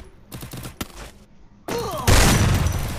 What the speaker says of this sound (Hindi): शॉटगन से मारूंगा।